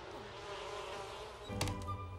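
Bees buzz faintly in The Sims video game as a soft, steady droning hum, followed near the end by a few brief clicks.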